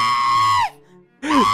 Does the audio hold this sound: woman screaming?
yes